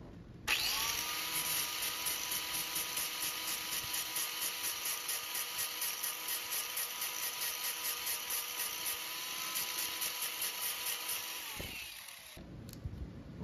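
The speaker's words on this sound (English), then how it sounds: "I'm breaking out the big guns with the angle grinder and flap disc" Angle grinder with a flap disc whines steadily for about eleven seconds while sanding walnut and brass for a clock build, loud and continuous with a faint pulsing rhythm, then winds down to a stop.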